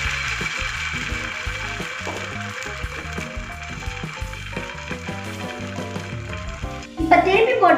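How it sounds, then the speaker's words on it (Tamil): Pancake batter hits a lightly oiled pan over a medium flame and breaks into a loud, bright sizzle near the end, after a stretch of steady background music. "பேன் வச்சு லைட்டா எண்ணெய் ஊத்திக்கங்க. அடுப்பை மீடியம் ஃப்ளேம்ல வச்சு மிக்ஸ் பண்ணதை ஊத்திக்கலாம்."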